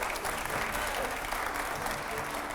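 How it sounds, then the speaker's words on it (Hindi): Studio audience applause at a televised Hindi political debate with editors, a steady, dense wash of clapping filling the room throughout without a break. "तालियां हो जरा"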